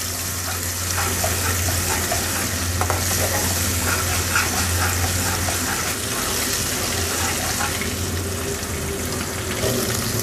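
Ingredients sautéing in a pan for restaurant-style urad daal mash, a dense, steady sizzle and bubbling with frequent stirring scrapes over a low constant hum, close and fairly loud throughout.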